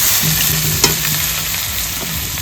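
Chopped onion hisses and sizzles in hot oil tempered with black cumin, whole garam masala and dried red chillies, with a steady frying hiss, a single utensil knock and light stirring scrapes.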